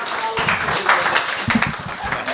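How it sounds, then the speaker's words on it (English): Crowd clapping breaks out, a scattered round of applause lasting a couple of seconds with voices mixed in. "round of applause for the creative ladies"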